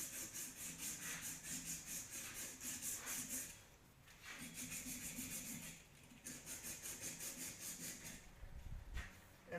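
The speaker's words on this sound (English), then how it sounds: "now I have some emery cloth. This is 60 grit" Sixty-grit emery cloth rubbing on a metal workpiece from arc-welding practice makes quick, rhythmic back-and-forth scraping strokes in bursts, with short pauses between runs, close and fairly quiet.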